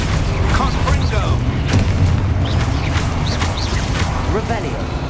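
Confringo fire spells blasting during Hogwarts Legacy combat, a dense run of loud booming bursts and crackling impacts over steady game rumble, with shouted voices mixed in.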